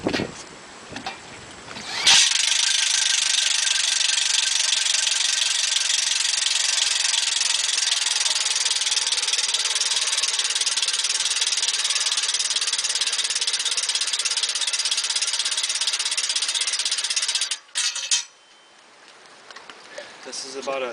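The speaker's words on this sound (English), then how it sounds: "It's just a standard 18 volt cordless drill and a speed reducer with a T-handle." A standard 18 volt cordless drill fitted with a speed reducer and T-handle drives a 2,500 pound boat lift holding a roughly 3,000 pound boat, whining steadily and loudly with a rattling drone for about fifteen seconds before stopping abruptly.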